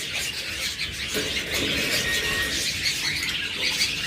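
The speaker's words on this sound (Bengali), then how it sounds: "দেখুন এখানে রয়েছে ইয়েলো কালার লাভবার্ড।" Yellow lovebirds kept for sale, chirping and tweeting in short, scattered calls over a constant hissy background, with several birds audible at moderate distance.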